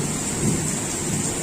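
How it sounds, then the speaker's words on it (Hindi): Heavy monsoon rain pouring down in a dense, constant roar with low thunder rumbling beneath, loud and enveloping with no voices. "फाइनाली वर्षा आज पूरा जोर जोर है।"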